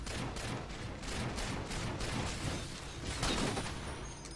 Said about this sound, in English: Let's see if we can put the sniper to use. Got five shots in it.